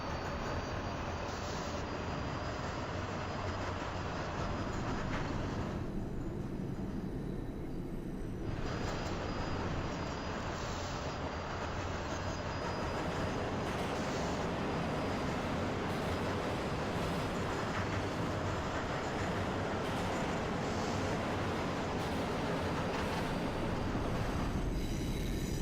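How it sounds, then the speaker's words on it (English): A No. 5 subway train arrives at the East 180th station in the OpenBVE train simulator, with a continuous loud rumble of rolling wheels and car noise and occasional squeals that persist throughout. "5 train now arriving East 180th."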